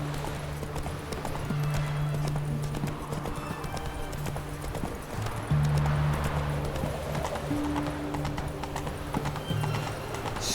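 Roach, Geralt's horse in The Witcher 3: Wild Hunt, gallops with a rapid, steady clip-clop of hooves and a whinny, over a sustained low musical drone.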